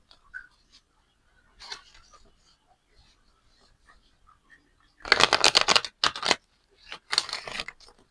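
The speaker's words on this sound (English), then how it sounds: "4 loose shuffles." A deck of tarot cards is shuffled loosely by hand in a quiet room, several short riffling bursts in quick succession near the end, close and crisp, after a mostly silent stretch with faint rustles.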